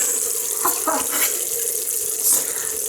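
Cold water runs from a tap in a steady, close hiss and splash, with no voices.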